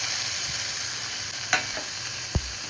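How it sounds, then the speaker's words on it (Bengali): Fried eggplant mixed into methi greens in a pan, with a constant hiss of frying and a few soft, brief spatula knocks, close and without speech. "এবারে আগে থেকে ভেজে রাখা বেগুনটাও মিশিয়ে দিচ্ছি।"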